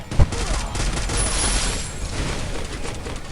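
Rapid gunfire bursts in the battle royale game Free Fire, a loud, dense fusillade of shots running through the whole stretch with a sharp hit near the start, with a voice faintly under it.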